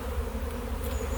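A honeybee swarm buzzing outdoors around a fir tree, a dense continuous hum of many bees at close range, steady and loud with no talking.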